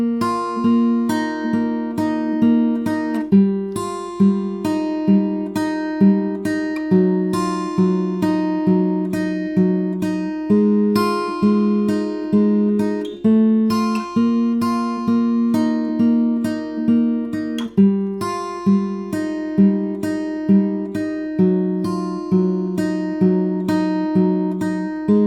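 Fingerpicked guitar plays part 2 of the verse of a song alone. Plucked notes ring out in a steady, even rhythm over a repeating bass pattern, clear and close throughout.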